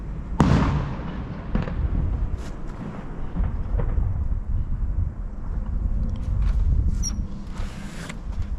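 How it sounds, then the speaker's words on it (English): Fireworks go off outdoors at a distance. Several irregular bangs and crackling bursts rise over a steady low rumble, with no one talking. "Oh, a lot of fireworks."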